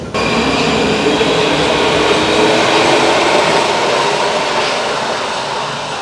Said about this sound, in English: So now this train is departing